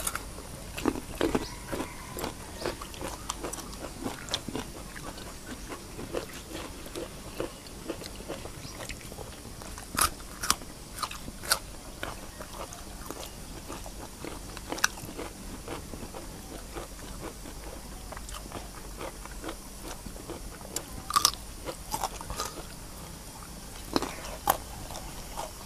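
Someone eats larb with galangal flowers and mushrooms, with close, crisp crunchy bites and chewing repeating at intervals over a quiet background.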